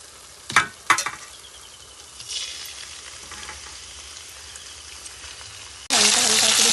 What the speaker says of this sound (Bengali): তো মাছটা ভাজার জন্য তেল দিয়ে দেবো। তো মাছটা আমি বেশি ভাজবো না,